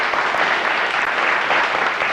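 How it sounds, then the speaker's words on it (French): A studio audience at a Belgian television game show applauds continuously and loudly, a dense wash of clapping with no break. "On les applaudit."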